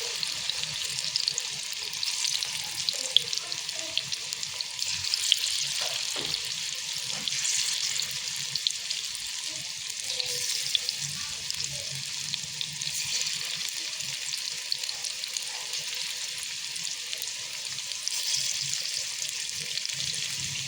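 Methi pakoras fry in hot oil, giving a steady, close, bright crackling sizzle that runs without a break, with a few faint clinks beneath.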